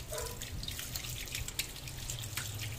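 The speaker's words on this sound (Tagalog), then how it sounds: "Hugas tayong kamay." Running tap water splashes steadily into a sink while hands are washed under it, a continuous close hiss with small irregular spatters and drips throughout, no voices.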